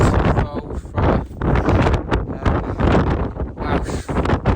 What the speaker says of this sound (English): It's been a really windy day today